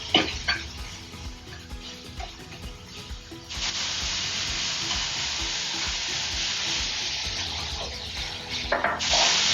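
Ground meat for sloppy joes sizzles and browns in a pan, a steady close frying hiss that grows louder and denser midway with occasional stirring scrapes.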